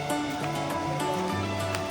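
Water rushes over a bed of many rocks in a hillside stream at Baker's Bend, a steady close-up roar with faint tonal hums running through it.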